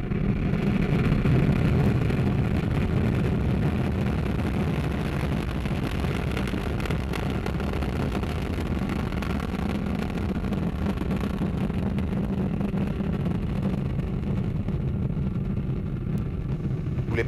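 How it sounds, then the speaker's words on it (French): An Ariane 5 rocket lifts off as its Vulcain main engine and two solid boosters ignite, a steady, dense, deep rumbling roar that holds without a break throughout. "Allumage Vulcain. Allumage des deux EAP et décollage."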